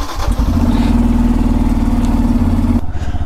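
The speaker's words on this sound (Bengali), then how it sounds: "মিডিলে 2-3 দিন বাইক চালানো হয়নি ভালো করে, তো এখন চালানো হচ্ছে।" A Yamaha motorcycle engine runs close and loud at a steady idle with an even, throbbing rumble, then cuts out sharply near the end.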